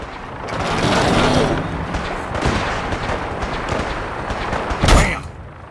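Gunfire aimed at a vertibird in Fallout 4, a steady stretch of loud, dense shooting with rapid bursts, ending in one sharp, heavier blast near the end.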